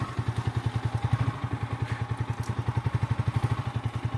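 A motorcycle engine idles close by in the Dang Valley, a steady, rapid thumping pulse with a faint clatter, heard alone without voices.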